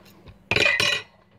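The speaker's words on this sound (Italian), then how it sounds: "Chiavi." Keys jingling close by in a short metallic burst of about half a second, with two quick shakes, after a quiet moment in a room.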